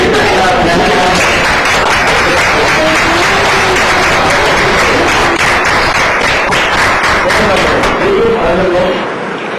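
Loud, dense applause from a school audience filling the room, sustained and even for several seconds before tapering off at the end.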